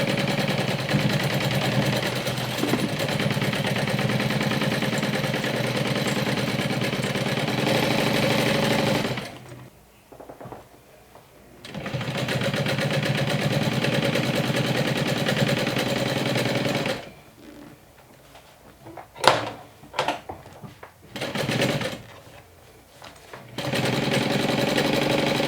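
Sewing machine basting two fabric layers together for a combination handbag, backpack and crossbody bag: close, steady rapid mechanical whirring in long runs, broken by brief pauses and a few short bursts of stitching, no talking.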